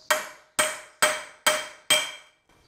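Five sharp metallic hammer strikes on an old sickle bar blade being used to shear off a rivet, evenly spaced about half a second apart, each ringing briefly before decaying, close and loud with no talk.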